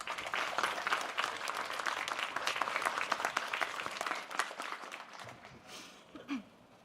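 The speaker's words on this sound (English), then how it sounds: "Please join me with a round of applause for Olivia." A college commencement audience at Adrian College gives sustained applause, dense clapping that holds steady for several seconds before thinning and fading into a few stray claps and a faint voice.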